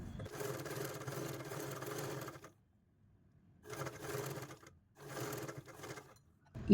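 A sewing machine stitches a V-neck design in three runs of steady, rapid stitching, separated by brief pauses, heard close and fairly soft.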